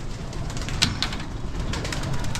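Breeder pigeons coo softly in a loft, with low rolling calls over a steady background hiss and a few sharper chirps from other birds.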